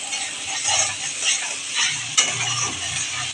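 Ginger and onion fry in hot oil with ground cumin, coriander, turmeric and chili, giving off a fluctuating sizzle. Repeated scraping and stirring run through it, and one sharp clink stands out.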